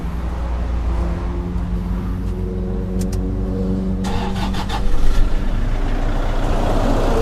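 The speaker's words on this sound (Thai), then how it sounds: "คันนี้เดี๋ยวพาฟังเสียงเครื่องยนต์นะครับ" A 2010 Toyota Hilux Vigo Smart Cab pickup's 2.5-litre, 120 hp diesel engine cranks and catches, then settles into a loud, steady, rumbling idle close by.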